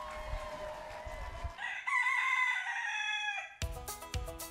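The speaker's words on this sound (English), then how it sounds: "Chanticleer is a proud, vicious rooster that rules the barnyard" A rooster crows a full cock-a-doodle-doo close by in a barnyard, one long rising and falling call, with other fowl clucking around it.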